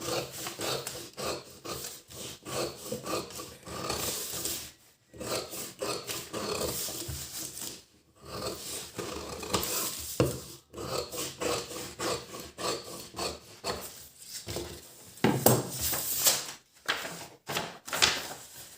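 Fabric being cut for a size 36 katori blouse with scissors: a long run of close, dry snipping and rasping strokes, rhythmic and steady, broken by a few short pauses.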